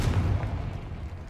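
A Confringo fire spell blasts in a Harry Potter video game, a short deep boom that quickly rolls off into a dull rumbling tail, with no voice over it.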